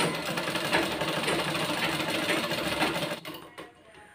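A sewing machine stitches a garment during tailoring work, a steady fast mechanical whir of needle strokes that runs for about three seconds, then slows and stops.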